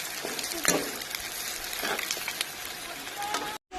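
Curry sizzles and fries in a pan with a crackling hiss, and a few louder stirring scrapes break through near the start and middle before a brief cutoff at the end.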